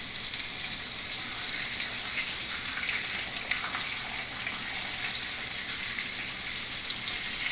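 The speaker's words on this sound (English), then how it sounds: "while the Spam is frying" Steady crackling sizzle of Spam frying in a hot pan, continuous and close, with no voices.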